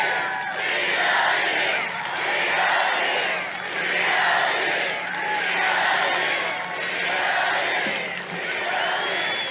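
Large political rally crowd cheering and roaring in swelling waves, loud and dense, with shouts and whoops rising and falling every couple of seconds.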